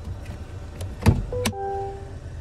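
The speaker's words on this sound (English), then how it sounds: "One touch automatic up and down windows for the front, express down for the back" Cabin of a 2025 Cadillac CT4 Sport with a 2.0-litre turbo four, where a few close clicks and thumps from switches and window travel are followed by a short, steady electric motor whine.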